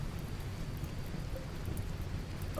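Rain in the video game Rimworld falls as a steady, dense hiss with low rumbling underneath, continuous and even for a couple of seconds, with no voices.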